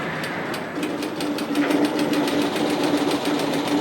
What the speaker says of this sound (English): lift the presser foot, turn and pivot, and continue stitching